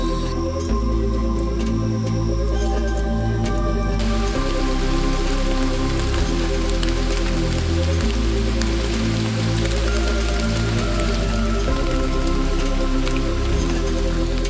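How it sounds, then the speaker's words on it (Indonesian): Steady rain falls in a Kalimantan forest, a dense, continuous hiss of drops on leaves and surfaces that stays loud and close throughout, with faint tonal forest sounds layered underneath. "hujannya juga udah selesai"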